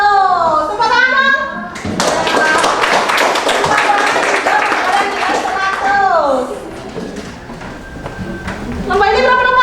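Children in a classroom break into a burst of hand clapping amid lively kids' voices, the dense clatter of many small hands running for several seconds before chatter takes over again.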